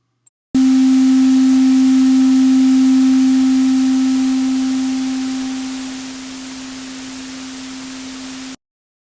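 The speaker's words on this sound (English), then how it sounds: "Now here we've added dither, and you should hear noise, but it'll sound much more like a sine wave." A single steady sine tone with added dither hums under a constant bed of hiss-like noise, loud and unchanging for several seconds before cutting off.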